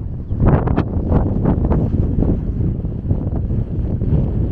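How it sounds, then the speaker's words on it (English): Wind picking up at a high, open outdoor site in Iraq, blustering loudly and continuously across the microphone in rough gusts, with no talk. "it's getting windy now, guys."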